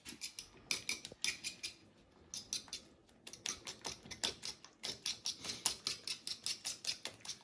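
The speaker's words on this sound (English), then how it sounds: "Nothing as therapeutic as beating eggs." Eggs beaten briskly with a whisk or fork in a bowl for an Italian stracciatella, with lemon peel and Parmesan; rapid, rhythmic clicking strokes come close and steady in two bursts with a brief pause between.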